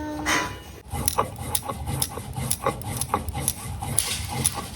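Rice for pitha being ground by hand, heard as close, rhythmic rasping strokes repeating roughly twice a second with a gritty, scraping texture and no talk.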